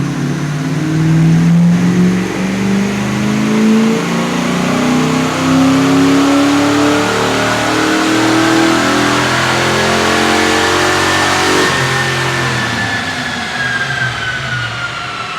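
A 1990 Ford Mustang Foxbody strains through a loud, sustained rev on a chassis dyno, its engine pitch climbing steadily through a long pull before easing off near the end, with no voices.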